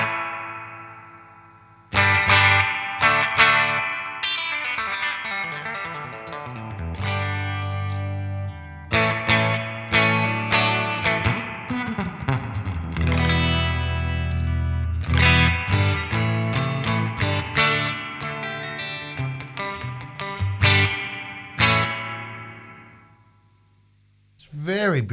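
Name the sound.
Danelectro Spring King Junior spring reverb pedal on guitar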